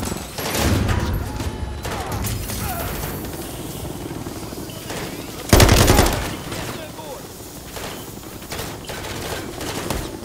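Sustained machine-gun fire aimed at a helicopter in Call of Duty Modern Warfare III, loud and rattling with a whirring rotor under it and one heavy impact partway through, with voices speaking over the battle.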